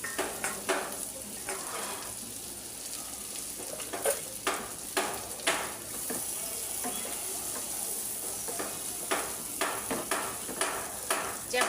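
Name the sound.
frying onion, garlic and dried fish in pan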